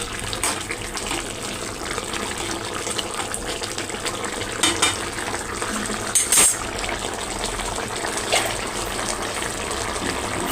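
A potato and eggplant curry, freshly dusted with ground clove, cardamom and coriander powder, is stirred in a pan, giving a steady close scraping and sizzling clatter with a few sharper knocks, and no talking.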